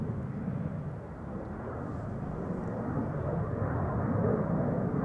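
Transavia airliner taking off at Amsterdam Schiphol, heard in the background as a broad, steady jet roar that builds slightly toward the end, distant and continuous with no voices.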